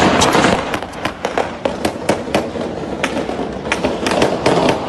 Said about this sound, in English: I mean, that is a lot of gunfire.